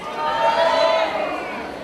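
A crowd cheers and claps in a continuous, moderately loud wash of sound, with excited voices blending together, at a school promotion ceremony as graduates' names are read.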